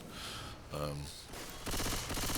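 Automatic gunfire in Left 4 Dead 2, shots fired through windows: dense rapid bursts in a few stretches, loud and close, with a short break between volleys.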